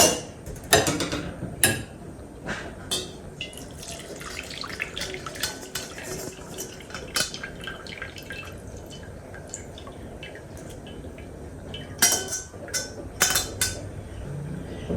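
Chicken stock being poured through a strainer into a pot, with drips and splashes of liquid and clinks of metal cookware and utensils, intermittent and close.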